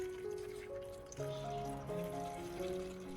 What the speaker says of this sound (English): I added clean filtered water to the bottom, just enough to cover the roots